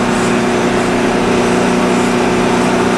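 Boat engines idling with a steady, low hum throughout, a constant even rumble with no change in pitch or speed.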